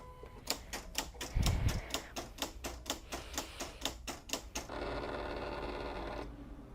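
A Silhouette CAMEO cutting machine slices Siser EasyWeed Stretch heat-transfer vinyl, giving a quick run of sharp, regular clicks and taps followed by a smoother mechanical whir that carries on before stopping near the end.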